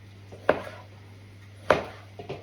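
A knife chops tomatoes on a board for eggplant rolls: two sharp, distinct cuts about a second apart, then a few lighter taps, close and clear with no talking.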